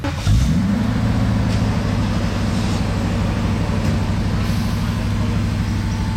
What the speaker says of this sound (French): Je vais vous filmer le départ des voitures parce qu'elles vont partir apparemment